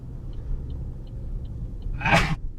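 A single short sneeze bursts out near the end over a quiet low rumble, with faint periodic beeps in the background.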